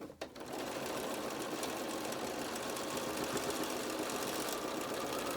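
Sewing machine top stitching close to the edge of a fitted mask, a steady, fast mechanical whirring and needle chatter running continuously after a brief start, close and fairly quiet with no talking.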